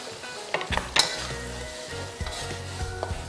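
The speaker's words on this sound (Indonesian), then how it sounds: "Kita tumis sampai harum." Kaffir lime leaves, bay leaves, galangal and lemongrass sauté in a pan with a steady sizzle, a few sharp clinks and scrapes of a utensil, close and without speech.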